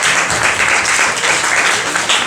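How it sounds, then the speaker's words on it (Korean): Sustained audience applause at a church evening sermon, a dense steady wash of many hands clapping that fills the whole moment at full loudness with no speech over it. "박수 한번 쳐주세요"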